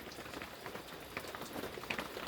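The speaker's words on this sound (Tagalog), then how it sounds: "Dito naman wala namang hangin, pero malakas ang ulan." A dense, steady hiss of heavy, windless rainfall, even and continuous with faint scattered drops, fairly soft and distant.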